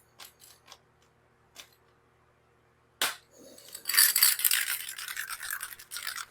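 A spray paint can that is not shaken enough, used on a 1971 Volkswagen Super Beetle, gives a few dry rattling ticks, a sharp pop, then an uneven sputtering hiss of spray close by.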